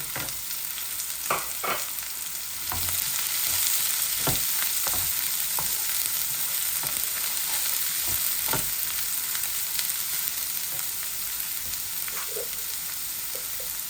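Onion and cumin seeds fry in oil in a pan, a continuous close sizzle with intermittent scraping and tapping of a spoon as they are stirred, moderately loud and without speech.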